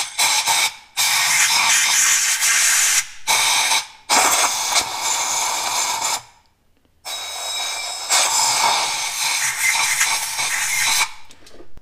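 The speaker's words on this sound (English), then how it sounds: "We're going to use air to do one last blow off in this area" Compressed air blowing off a diesel injector bore on an OM648 engine, in several loud close bursts of hiss separated by short pauses.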